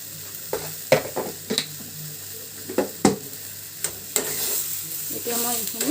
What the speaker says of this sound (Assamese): এতিয়া মই এইখিনি দুবাৰমান লৰাই দিম